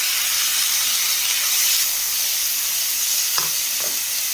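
Chopped banana stem sizzles steadily in a hot pan, a constant bright hiss, with a couple of light scraping clicks from a utensil stirring near the end.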